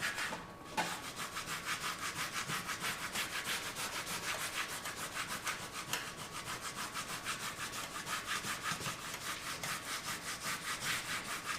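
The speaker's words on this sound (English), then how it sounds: "You just want to give good pressure and make sure you burnish all the areas." Transfer tape pressed and rubbed firmly over a vinyl airbrush paint mask, a steady close scraping-rub that repeats in quick even strokes throughout, alone without talk.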